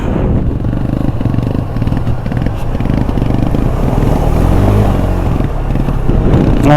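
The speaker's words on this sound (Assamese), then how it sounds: "বাইক মিচিং দি আছে একদম ধাকে গৈ আছে" A motorcycle engine runs loud and close on a rough mountain road between Nubra Valley and Pangong Lake in Ladakh, its rough, uneven chugging stuttering irregularly as if misfiring, with no voices.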